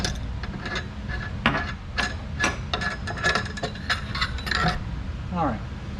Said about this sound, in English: I'm going to take our wrench here, take the old stem out